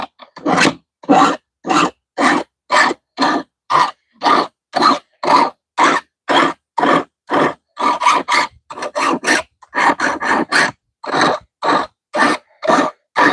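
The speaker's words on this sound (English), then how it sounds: "Gotta sharpen my blades" A knife blade is sharpened in a cleaning setting for crappie from Lake Okeechobee, with about two dozen rhythmic rasping strokes, evenly spaced and close, each a short scrape.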